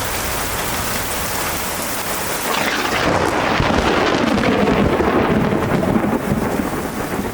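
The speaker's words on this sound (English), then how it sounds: "it kind of rained a lot. Thunderstorm, torrential" Torrential rain hammers down in a thunderstorm at a Florida railroad museum. A loud, rolling roll of thunder swells midway through and stays over the dense, hissing downpour.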